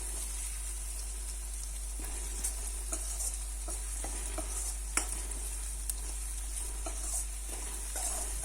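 Chopped onions sizzle in a hot pan for garlic kuzhambu, a steady close frying hiss broken by occasional stirring scrapes and clicks, with no voices.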